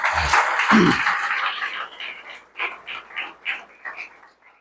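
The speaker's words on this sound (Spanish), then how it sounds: "Un fuerte aplauso para nuestro Dios, mis hermanos." A church congregation applauds after a prayer, a dense burst of clapping that fills the room and then thins into scattered, fading claps.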